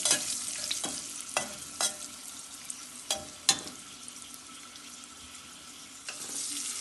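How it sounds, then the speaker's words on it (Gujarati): Turmeric and spices frying in a pan while being stirred, with a continuous sizzle broken by repeated sharp scraping and clinking strokes of a spoon against the pan, close and fairly loud. "થોડી હળદર, થોડું હલાવી દેવાનું છે."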